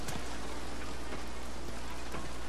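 Rain falling in the video game Red Dead Redemption 2, a dense, steady hiss of downpour with scattered sharper drop impacts, fairly loud and with no talk over it.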